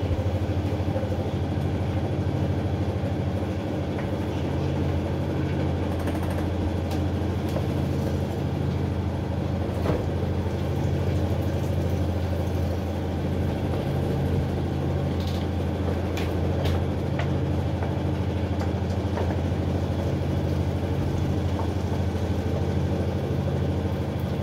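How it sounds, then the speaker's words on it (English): A Lyson honeycomb uncapping machine runs with its heated knives on, giving a steady, continuous motor drone at an even level throughout, with no talking. "Turn the knives on and then press this machine to the left."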